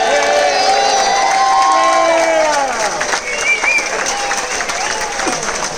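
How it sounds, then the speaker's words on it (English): Loud applause and cheering from a cruise ship talent show audience for a performer, with whoops and voices rising over the clapping and sustained, music-like tones running underneath. "let's give a nice round of applause for Stevie"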